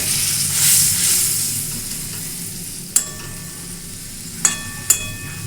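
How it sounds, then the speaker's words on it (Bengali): Bitter gourd frying in a pan with a little water added hisses and sizzles steadily while a utensil stirs it, with three sharp metallic clinks from the spoon against the pan. "এখানে আমি জল দিয়ে দিলাম অল্প পরিমাণে একটু নাড়িয়ে নেব"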